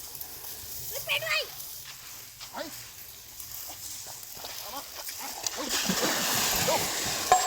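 Bigsy the pet splashes while playing in river water, with splashing and sloshing building toward the end, under a continuous outdoor wash and intermittent voices talking nearby.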